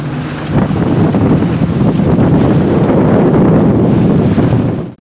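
A strong monsoon wind roars loudly across the open sea, buffeting the microphone in a constant rush over a low wash of waves.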